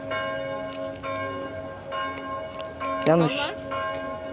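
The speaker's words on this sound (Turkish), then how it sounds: "Akşamüstü saat 5 çanlar çalmaya başladı kentin ortasında." Church bells toll repeatedly at a measured pace in the middle of a Swiss village at 5 p.m., ringing out with lingering tones; a brief voice speaks once partway through.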